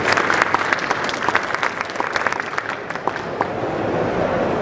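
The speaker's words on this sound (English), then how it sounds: "Please give them a warm round of applause." An audience gives a warm round of applause for a panel of chefs on stage, with dense, steady clapping that fills the whole stretch at an even level.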